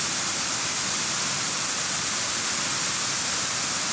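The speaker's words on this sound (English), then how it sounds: "Beautiful waterfall here." A steady, dense rush of falling water roars without a break, broad and constant like a nearby cascade, at Katahdin Stream Falls.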